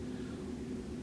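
A car exhaust or motorbike passing outside produces a faint, steady low engine drone heard from a distance through a quiet room.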